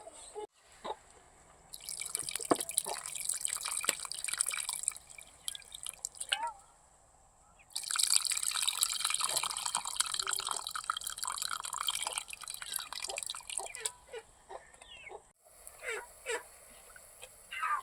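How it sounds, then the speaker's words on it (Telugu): Tamarind pulp is poured over pieces of small fish coated in turmeric, salt and chilli powder, making a wet, trickling, dripping pour that comes in two long bursts with a short pause between. "దీంట్లోకి చిన్న నిమ్మకాయ సైజంత చింతపండుని గుజ్జులాగా చేసి పోస్తున్నా"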